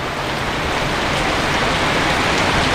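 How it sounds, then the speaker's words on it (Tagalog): Dense rain falls hard on a surface after strong winds, a loud, steady broadband patter of drops with no pauses. "pagpasisya nyo na po yung patak ng ulan medyo maingay niya sa video natin"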